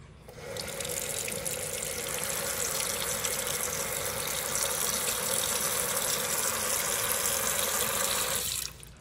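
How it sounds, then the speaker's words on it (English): Water from a tap pours steadily into a rock tumbler barrel holding rocks and silicon carbide grit, a continuous hissing stream that starts abruptly, runs for several seconds at even strength and then cuts off. "Now we just need to get some water in there"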